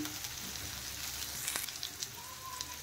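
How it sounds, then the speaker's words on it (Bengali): Vegetables lightly frying in a pan, a soft, steady sizzle with occasional pops and a faint stir, heard close but quietly and without any talk. "দেখেন সবজিগুলো আমার হালকা ভাজা হয়ে গেছে।"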